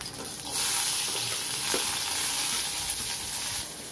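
Steady crackling sizzle of chopped onions frying in hot oil with mustard seeds, close and continuous, with faint stirring.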